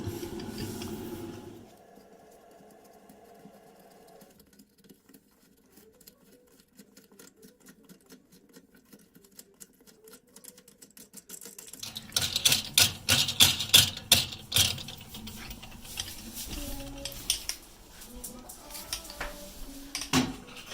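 Screwdriver unscrewing the fixing bolts of a cracked Twyford toilet seat, a quiet start giving way to close, busy scraping, clicking and metallic rubbing in the second half, with no talking.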